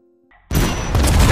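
A bomb explodes in a film and a building collapses: near silence with faint tones, then a sudden loud blast that carries on as a dense, crashing roar of debris.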